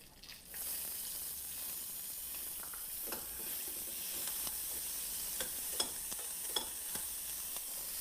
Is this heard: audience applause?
no